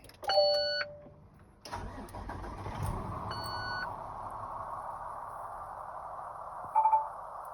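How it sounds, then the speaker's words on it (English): A truck engine cranks briefly and catches, settling into a steady idle while a few electronic dashboard beeps sound at the start and end. "I'm going to start the truck."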